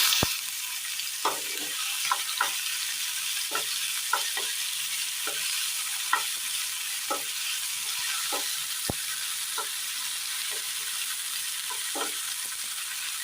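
Chopped tomatoes sizzle steadily in hot coconut oil in a pan for a Kerala curry, with a spoon scraping and tapping the pan at irregular intervals over the constant close hiss.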